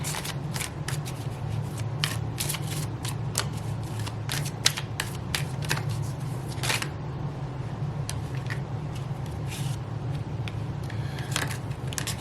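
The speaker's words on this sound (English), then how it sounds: "While I'm continuing shuffling" Continuous riffling and slapping of a deck of tarot cards being shuffled, steady crisp taps repeating throughout, close by with no talking.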